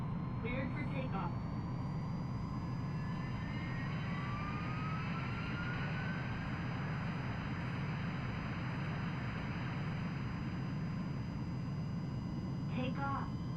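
A jet aircraft in Ace Combat 3 holds a steady, loud engine roar as it takes off, with a rising whine sweeping up over the drone and brief radio-style chirps near the start and end.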